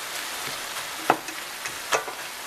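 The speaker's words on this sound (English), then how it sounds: "I come back and chop the meat." Meat sizzles softly in a pan while a regular spatula chops at it, giving a couple of sharp scraping taps over the steady fry.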